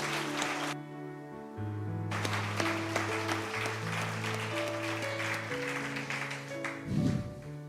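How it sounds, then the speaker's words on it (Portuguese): A church congregation at a worship service claps loudly and steadily, with sustained organ or keyboard tones underneath. "Aplauda forte ao Rei."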